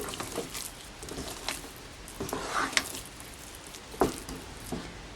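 Ube espasol, a thick purple rice-flour mixture, being stirred and folded in a pan with two wooden spatulas: soft sticky squelches and occasional scraping knocks at irregular intervals over a faint background sizzle, close by.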